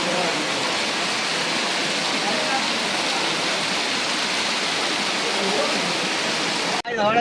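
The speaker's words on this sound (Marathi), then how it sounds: "हे बघा बघू शकता पाऊस केवढा आहे" Heavy monsoon rain pours down in the Konkan countryside, a dense, steady hiss of water that fills the scene evenly before cutting off abruptly near the end.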